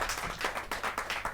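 Rhythmic clapping from an audience at a Hindi poets' gathering, welcoming a poet from Ghaziabad; steady, fairly loud hand claps in a quick repeating beat with no talk over them.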